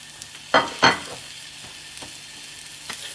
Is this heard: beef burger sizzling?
yes